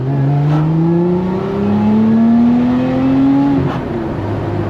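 A Lotus Emira engine revs while driving, its pitch climbing steadily through a gear, dipping on a shift, then rising again. Loud and close, with no talking.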